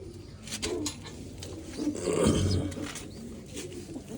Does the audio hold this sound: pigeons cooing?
yes